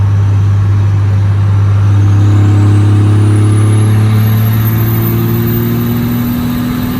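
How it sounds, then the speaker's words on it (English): 12-valve diesel truck with 4K governor springs cruising in fifth gear at about 65 mph, a loud, steady low engine drone with the pitch slowly rising as it pulls, heard from inside the cab. "We're in fifth gear right now. Just cruising, probably 65."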